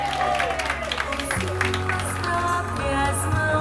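An audience breaks into applause at a tribute gathering, a dense patter of clapping hands that carries on steadily, with voices and some tonal sound running underneath.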